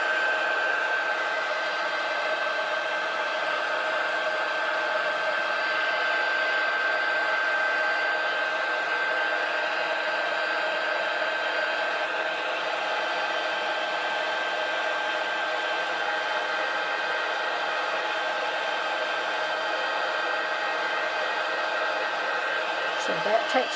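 A heat tool blows and whines steadily at close range, melting clear embossing powder on a stamped card for snowflake crafting, a loud constant airflow hum that continues almost unbroken before cutting off at the end.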